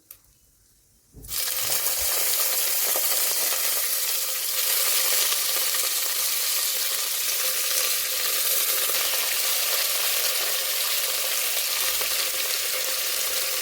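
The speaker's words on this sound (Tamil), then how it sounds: "ஸ்பைசஸ் போட்டதுக்கப்புறம் நம்ம பெரிய வெங்காயம் நம்ம போட்டுக்கலாம்" Large onions are dropped into hot oil with cloves and cardamom for mutton biryani. After a brief quiet start, a loud, dense sizzle bursts in and holds steady and close for the rest of the clip.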